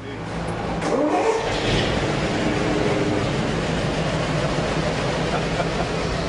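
A 1937 Ford Coupe engine runs and revs nearby in Cuba, a steady mid-pitched roar that swells early and then holds loud and constant throughout.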